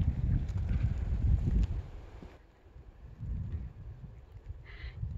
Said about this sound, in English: You can hear the wind coming before it gets here.